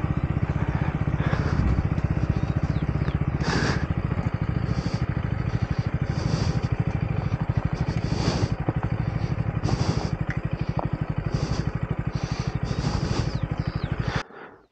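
Motorcycle riding along a sloping road with a curve, its mid-pitched engine droning steadily and close throughout with some clatter, then cutting off abruptly near the end.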